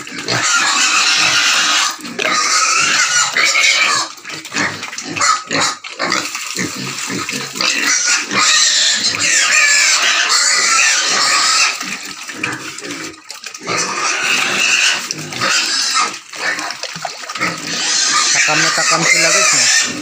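Pigs eat fermented feed at close range with continuous loud grunting, squealing and wet slurping. Chickens cluck nearby and a person speaks occasionally.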